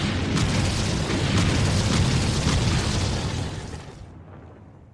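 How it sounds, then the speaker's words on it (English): Airstrike with 500-pound bombs in the Vietnam-era wargame Lock N' Load Tactical, a loud rumbling explosion that roars for several seconds before rolling off into a fading tail, with no voices. "Nothing like 500-pound bombs to ruin your day."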